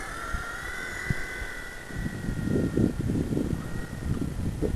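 A v911 RC helicopter flies outdoors in breezy conditions, its thin, steady motor whine running throughout while gusts of wind rumble and thump against the microphone.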